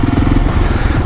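A Kawasaki KLR 650 dual-sport motorcycle engine runs close and loud in a brief burst, a steady low rumbling throb with no talking.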